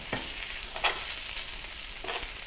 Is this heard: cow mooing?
no